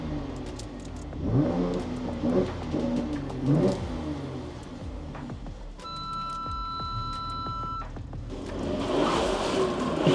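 A Mercedes CLS is driven out of a workshop, its engine revving in a few bursts close by, with clinks and a steady electronic warning chime partway through; no talk.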